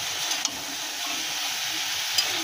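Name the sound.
stirring fried potato pieces into vegetable curry in pan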